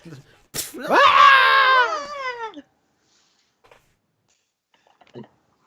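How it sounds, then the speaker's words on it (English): A loud, drawn-out scream sound effect lasting about two seconds and sliding in pitch, then near silence with a few faint clicks and taps. "This is where the Wilhelm scream."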